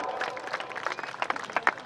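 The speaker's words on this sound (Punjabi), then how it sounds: "ਨੌਜਵਾਨ ਤਾੜੀ ਮਾਰ ਦੋ" An audience at a village kushti wrestling dangal breaks into scattered clapping, a brief ragged patter of applause from a crowd nearby.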